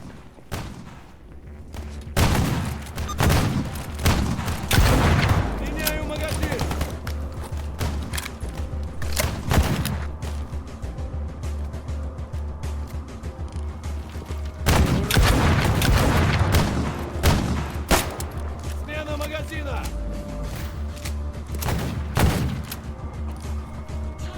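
A gunfight between mercenaries and stalkers in the video game Stalker Gamma, with repeated loud gunshots, rapid bursts of automatic fire and heavy booms, dense and continuous throughout with short lulls.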